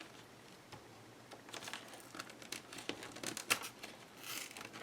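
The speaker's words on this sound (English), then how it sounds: "I am going to attempt to rip this photo" A photo being ripped with an edge cutter, giving close, crinkly tearing of paper in short irregular bursts that build toward a longer rip at the end, with no talking.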